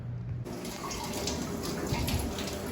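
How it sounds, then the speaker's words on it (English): Tap water runs steadily into and over a balloon as it is rinsed in a sink before making chocolate bowls, a close, even splashing flow with no talking. "putting a little bit of water inside the balloon, squirting it out, and just rinsing off the outside of the balloon"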